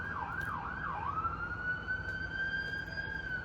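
A siren wails in a quick up-and-down yelp, then settles into a long steady tone, heard at moderate distance over faint road noise.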